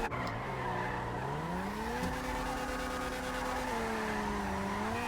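Sentinel Classic, an old-school BMW M3 E30 in the GTA Online video game, drives with a steady engine drone whose pitch rises and falls through gear changes, mixed with tire squeal and skidding, loud and continuous.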